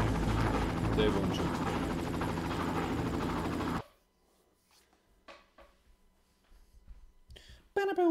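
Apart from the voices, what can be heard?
helicopter flying in the video game Far Cry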